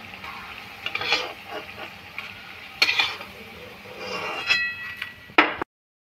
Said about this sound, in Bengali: এইভাবে বাকিগুলো ভেজে নেব।